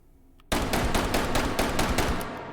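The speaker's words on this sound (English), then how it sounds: "8 rounds of properly loaded 357 Magnum, firing as fast as I can." A S&W M&P R8 revolver in the VR game H3VR fires eight .357 Magnum rounds in quick succession, loud sharp evenly spaced shots following a quiet start.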